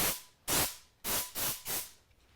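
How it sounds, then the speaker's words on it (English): Compressed air sprays in four sharp hissing bursts of about a quarter second each, loud and close, with short silent gaps between them. "This here is the compressed air"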